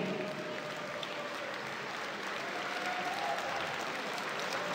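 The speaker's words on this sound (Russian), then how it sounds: "вы своими аплодисментами дадите оценку нашим судьям, судьям международной категории" An audience at a freestyle wrestling award ceremony applauds the judges, a dense, steady wash of many hands clapping in a large hall, sustained evenly throughout.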